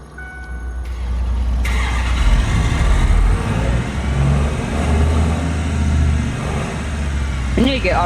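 A truck engine in Farming Simulator 25 starts with a couple of abrupt catches, then settles into a loud, steady, low rumble that runs on continuously.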